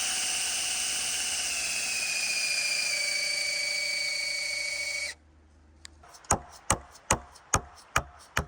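A power drill bores through ground-mount posts to take 7-inch carriage bolts for a DIY solar array. A steady, close, high-pitched whine runs for about five seconds and then cuts off, followed by a regular series of sharp clicks.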